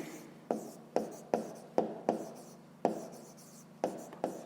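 A pen or chalk taps and scratches out numbers during a fifth-grade math exercise, roughly ten short strokes at a steady pace, close and quiet, with no talk.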